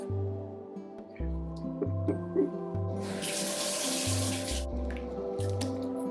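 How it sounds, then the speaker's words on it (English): A kitchen tap runs into a sink for a couple of seconds as vegetables are rinsed, producing a bright, close gush of water. A low, pulsing hum carries on beneath it, and a few small clinks can be heard. "I'm gonna need to wash this again though."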